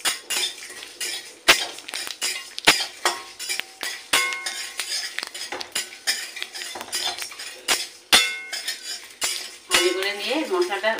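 Coriander, cumin, black pepper and dried chilies dry-roasting in a pan, heard as repeated clinks and scrapes of a metal spoon stirring against the pan, close and fairly loud, with no audible sizzle.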